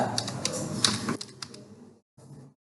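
Fast clicking keystrokes on a computer keyboard, typing a term into a search bar in the Azure portal, rapid close taps for about two seconds before trailing off into near silence.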